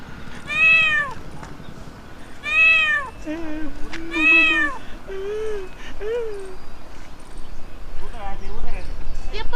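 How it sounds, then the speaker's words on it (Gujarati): A cat meowing, with three or four loud, drawn-out meows in the first half and fainter cries later, over someone talking and other household noise. "એ મીંદડું છે"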